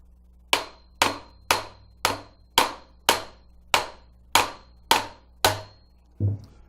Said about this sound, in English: take a brass hammer, I don't want to use a metal one, and just give it a good smack.